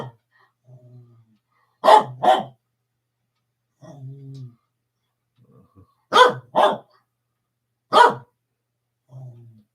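A dog barks in short paired bursts, loud and close, with quieter growly whimpers between the barks and a pause before each new volley.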